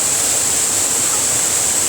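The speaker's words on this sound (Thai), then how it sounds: "วันนี้มาเล่นน้ำตกที่เราดูกันนะครับ" A waterfall roars as a loud, dense, continuous rush of water, close and unbroken, with no voices.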